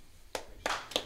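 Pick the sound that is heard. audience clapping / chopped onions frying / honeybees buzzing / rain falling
audience clapping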